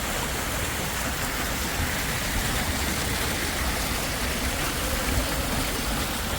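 Water rushes steadily beneath a bridge in Birmingham, UK, a constant broadband wash heard from above without pause and without voices.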